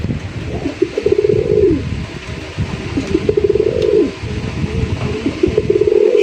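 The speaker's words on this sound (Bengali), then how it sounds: "ফুল পাগলা আকাশি কালারের কালারিং রাজগোল্লা কবুতর আপনারা দেখতেই পাচ্ছেন মাশাআল্লাহ একদম দেখার মতো পুরা ফুল দমে ডাকতেছে" A sky-blue male Rajgolla colouring pigeon coos loudly and repeatedly, with three drawn-out rolling coos close by over steady background noise.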